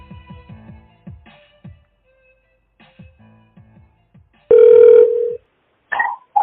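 A phone line's electronic tone sounds after a call is hung up, a steady burst of about a second followed by shorter tonal chirps, preceded by faint, scattered low background noises.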